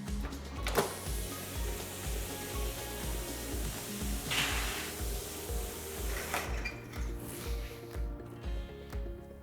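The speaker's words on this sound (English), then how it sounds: "we simply hit the plot button here and you can hear the machine running" A cutting plotter for protective paint film runs at close range with a steady mechanical chug, interrupted by a few sharp clicks and brief whirring movements.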